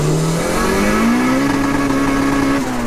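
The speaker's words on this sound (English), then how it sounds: "The sound of it when it comes on boost and the screamer opens is unreal." A 370bhp VTEC turbo Mini pulls hard in second gear on high boost, its engine note rising steadily and loud up close, with the screamer pipe adding a harsh open roar.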